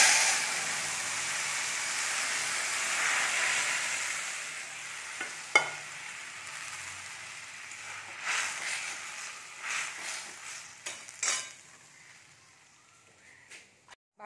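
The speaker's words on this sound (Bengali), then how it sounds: "একটুখানি শুকনো লঙ্কা, তেজপাতা আর মৌরি ফোড়ন দেব" Dry red chilli, bay leaf and fennel seeds tempering in hot oil for dal, a broad hiss of sizzling that fades over time, with scattered pops and a few sharp clicks of utensils, close and without speech.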